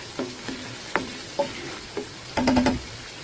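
Potatoes and capsicum frying in a pan with a soft sizzle under several separate spoon scrapes and stirs, then a short burst of quicker stirring, close up with no talk.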